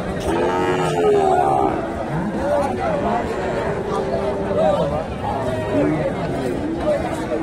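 Sahiwal and Friesian bulls low and moo at an open-air cattle market in Mahasthangarh, Bogura, amid a busy crowd with many voices chattering loudly.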